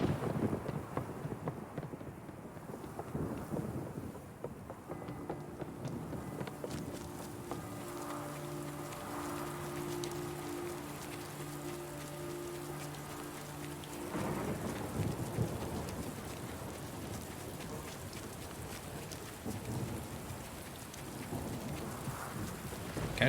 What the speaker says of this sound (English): I love rain sounds.